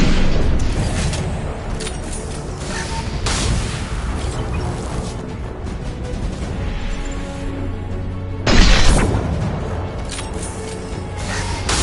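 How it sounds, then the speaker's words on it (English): Flashbang explosions in the video game Mass Effect 2 during a prison-block fight, a sustained roar of combat noise with a sharp loud burst near the end. "Watch out, flashbangs!"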